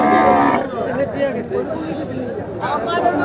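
Cattle, including Sahiwal and cross-breed bulls and calves, at Pikna livestock market in Jamalpur, with lowing mixed into a busy hubbub of people talking nearby.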